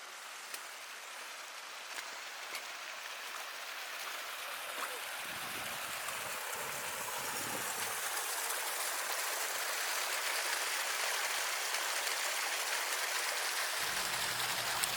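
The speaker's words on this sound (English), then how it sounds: "And here you can see this waterfall that's coming out of the ground." Steady rushing water from a small waterfall flowing out of the ground near an old abandoned mine, a constant splashing hiss that swells gradually, heard up close with no voices.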